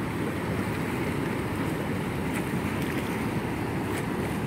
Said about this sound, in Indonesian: gelombang-gelombang atau riak-riak kecil dari air Sungai Progo.